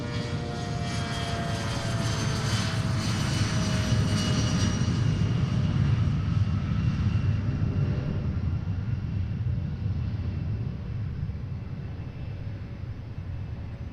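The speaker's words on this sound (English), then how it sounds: "they are very clearly doing intersection departures here because they don't need the full length of the runway." Private jet engines roar steadily during an intersection departure from a runway at Boeing Field, a loud, sustained whine and rumble that holds strong before easing slightly.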